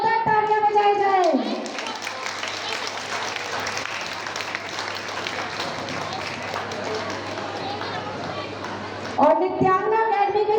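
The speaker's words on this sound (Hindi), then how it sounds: "इनका स्वागत करने के लिए एक बार जोरदार तालियां बजाई जाए" Audience applause at a Sri Krishna Janmashtami cultural fest stage event, a dense burst of clapping lasting several seconds between bits of amplified speech before and after.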